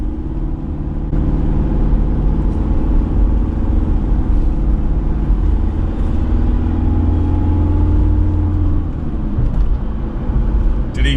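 Isuzu MU-X engine accelerating as heard from inside the cabin, a steady loud low rumble with mid-frequency drone and transmission whir that holds throughout, easing slightly near the end.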